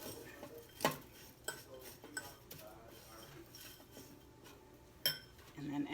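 Meatloaf mixture with grated cheese being stirred in a bowl, with scattered clinks of a utensil against the dish and soft squishing, fairly faint with a few sharper knocks.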